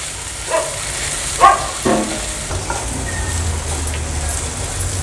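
Red okra stir-fried with onions on a tawa: a quiet steady sizzle broken by a few light scrapes of stirring, close up and faint.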